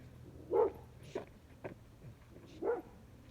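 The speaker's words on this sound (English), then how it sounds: "Here come our barking friends." A dog barks a few times in short, separate bursts, with a whimpery yip between them, fairly close and with no talking.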